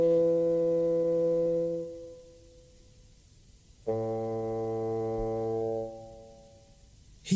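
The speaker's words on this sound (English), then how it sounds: "I haven't heard a steam organ like that for years." Steam organ pipes on an animated steam engine sound sustained harmonic chords, one long held note group, a pause, then another held chord, loud and alone with a brief burst at the end.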